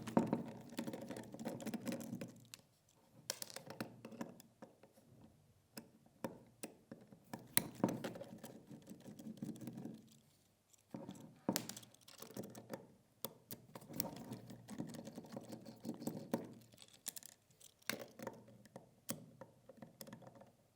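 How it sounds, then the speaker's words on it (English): Screws are taken out of an SSR4 Mk2 pistol grip with a Phillips screwdriver: quiet close-up clicking, scraping and small metallic ticks come in irregular bursts with short pauses between. "we need to remove the 4 screws which are inside of the pistol grip"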